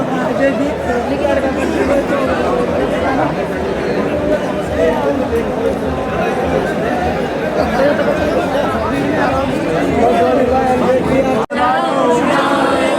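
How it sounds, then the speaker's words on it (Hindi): Dense crowd of pilgrims chattering at the Khatu Shyam temple gate, a steady loud babble of many overlapping voices filling the whole stretch with no single voice standing out. "पूरी भीड़ हो गई, पैक कंप्लीटली है यहाँ से।"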